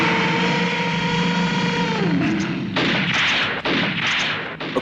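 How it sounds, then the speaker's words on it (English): Gunfire in a 1970s dinosaur adventure film, heavy booming shots breaking in after a sustained tone, several loud blasts in quick succession. "try aiming at the dinosaurs instead of just randomly shooting at the sky"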